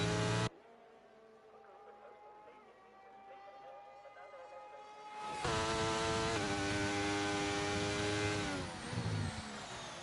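A race car in a sim racing game at the Hungary circuit sits on a droning engine note, then revs hard as it launches and climbs through the gears. Commentators' voices can be heard.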